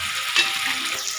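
Tomatoes and vegetables fry in a pan on a home stove, giving a steady close sizzle with soft stirring crackles and no talk.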